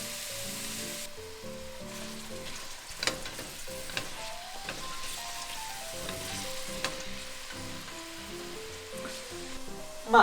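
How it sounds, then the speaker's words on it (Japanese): Garlic cloves cut into quarters, then onion, frying in oil in a pan with a steady sizzle; tonal background music runs throughout. "ニンニクを1かけ、4分の1にカットして軽く炒めましょう。 で、玉ねぎも入れて炒めます。"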